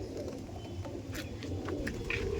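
An Andhra pigeon hen coos softly over a low background hum, with a few short, gentle calls rising above it.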